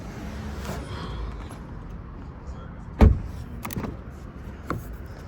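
The rear door of a Volvo electric car opens with a sharp click and latch thunk, followed by a few lighter mechanical clicks, close by in a quiet setting.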